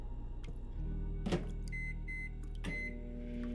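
A microwave hums steadily inside a video game apartment, a low constant drone with a brief clatter and a few faint electronic tones over it.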